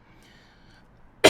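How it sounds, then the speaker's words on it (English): After a near-silent pause, one person gives a single sharp, loud cough close to the microphone. "Sorry, I got a cough."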